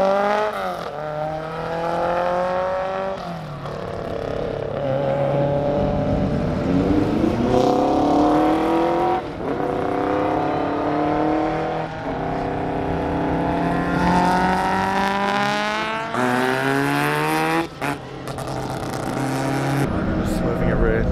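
Drift cars rev and scream around a bending racetrack at a drift event, engines rising and falling in repeated passes, with someone talking excitedly over the noise.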